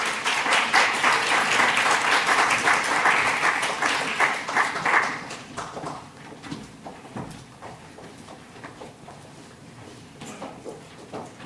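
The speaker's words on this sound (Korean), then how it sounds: "우리가 격려하는 의미로 한 번 더 뜨거운 박수를 부탁드리겠습니다" Warm applause from a congregation at a Friday church service, dense and loud at first, then thinning into scattered claps as it dies down.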